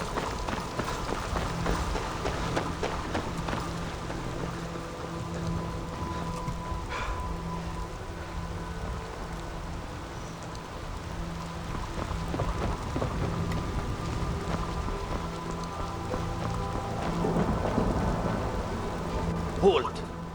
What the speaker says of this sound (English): Once you get past the rain for some reason right now.